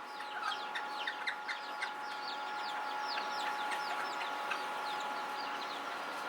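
Chickens and other birds cluck and chirp in a busy, overlapping chorus at moderate distance, a continuous stream of short calls over steady background hum.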